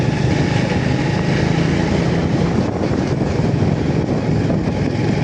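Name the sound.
motorcycle engine while riding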